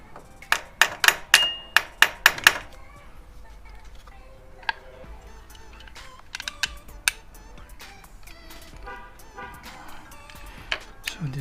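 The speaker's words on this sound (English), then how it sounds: "Tap this a little bit to loosen up." Quick taps of a tool on a Yamaha V Star 1100 valve cover sound as a rapid run of about eight sharp, close knocks, then a few scattered lighter clicks and taps against a quiet workshop background.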